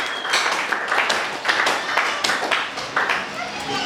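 A French-speaking church congregation claps together at a Sunday service, producing close, loud, rhythmic claps with voices faintly underneath.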